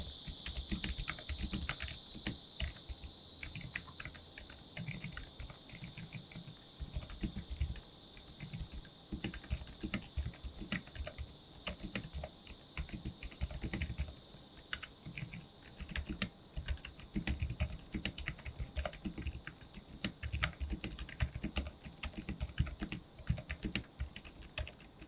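Rapid clicking of keys on a custom-built mechanical keyboard, a steady patter of sharp taps with occasional louder strokes, close up and continuous with no talking.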